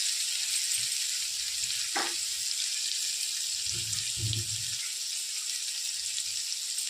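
Ground spice and garlic paste sizzles in hot oil with a steady, bright hiss. A few soft, low knocks of the pan or spoon break in briefly.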